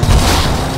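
A loud, deep boom of a mine exploding in the video game Mad Max erupts and rumbles briefly, a single blast with a dense low roar that quickly settles.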